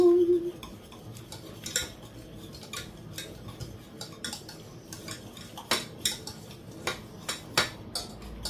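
A utensil stirs beurre blanc butter sauce in a pan, with light clinks and scrapes against the metal that quicken into regular taps about every half second toward the end.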